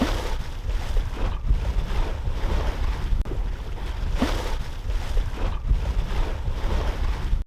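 Strong wind buffets a sailboat on its beam in Queen Charlotte Strait, a loud steady rush of gusting wind and microphone noise blended with waves washing against the hull, with no voices.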